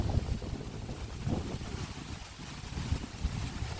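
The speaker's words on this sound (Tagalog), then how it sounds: "Yan, napakalakas ng hangin." Strong typhoon wind in Bohol buffets and rumbles against the microphone in continuous gusts, with a broad roaring hiss and no voices.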